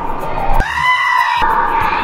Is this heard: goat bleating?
yes